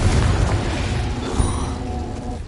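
Confringo blasting spell in the Hogwarts Legacy video game, a low rumbling explosion that rolls on steadily with a dull boom partway through amid busy game noise.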